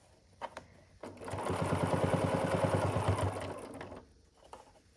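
A sewing machine stitches through a bulky quilted Christmas stocking in a steady rapid burst for about three seconds, starting and stopping cleanly, with a few faint clicks before and after.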